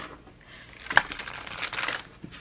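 A tarot card deck is shuffled by hand, giving crisp papery riffling and crinkling bursts with one sharp snap near the middle, close and fairly quiet.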